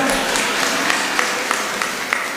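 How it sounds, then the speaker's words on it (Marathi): A steady wash of clapping from a crowd at a Shiv Sena political gathering, continuous and fairly loud, with a few sharper individual claps standing out. "वाजवा टाळ्या तर वाजवा"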